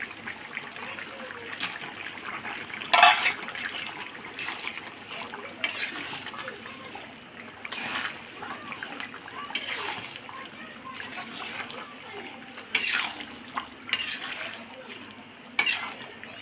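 Rohu fish being added to a pot of boiling bottle gourd curry: a steady bubbling simmer nearby, broken by occasional soft splashes and clinks against the pan.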